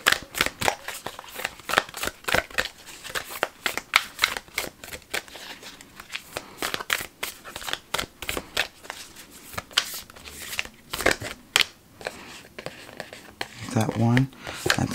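Tarot cards are shuffled close by in quick riffling bursts and soft flicks that run through most of the stretch, with a few sharper card snaps toward the end and no talking.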